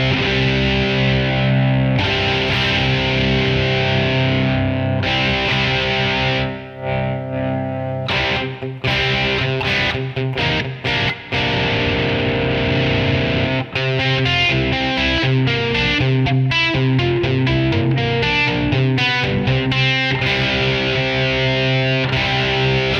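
Heavily distorted electric rhythm guitar with the distortion set to 10, playing loud, sustained chugging chords with a few brief breaks and choppy stabs, alone without voices.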